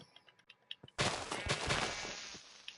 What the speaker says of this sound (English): Was an explosion.